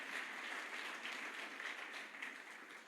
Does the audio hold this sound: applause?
yes